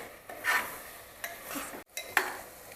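Powdered spices being sautéed with mutton for korma in a pan: a few scraping, clattering strokes of a spoon against metal, close and moderately loud, with no talking.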